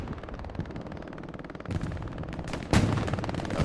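Sustained machine-gun covering fire from an MG position in the WWII shooter Hell Let Loose, a steady rapid rattle of distant automatic bursts that grows louder and denser toward the end, with no talk.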